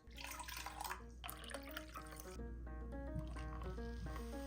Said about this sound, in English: We'll add in a few ice cubes.